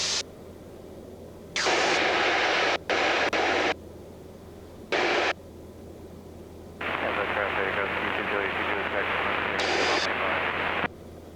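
A Piper Cherokee 140 engine drones steadily in flight, a constant close hum under repeated bursts of voice and radio chatter in the cabin.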